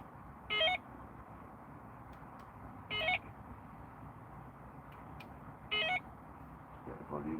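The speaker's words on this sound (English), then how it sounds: "It's good to hear the bite alarm, isn't it?" A carp fishing bite alarm receiver inside a bivvy gives three short electronic beep bursts, evenly spaced a few seconds apart over quiet background hiss, loud and close, with a faint sound at the end.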